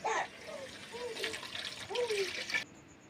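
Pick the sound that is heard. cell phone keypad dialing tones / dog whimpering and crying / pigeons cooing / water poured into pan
water poured into pan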